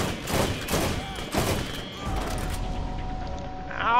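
Sniper rifle gunfire in the video game Borderlands: several sharp, rapid shots in the first seconds with heavy booming tails, fading into a low rumble while voices talk over the action.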